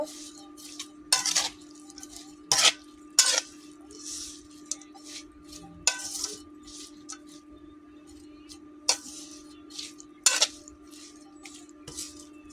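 Small fish being mixed by hand or spoon with turmeric and salt, producing a series of short wet squishes and utensil taps at irregular intervals over a low steady hum, close and quiet, no voices.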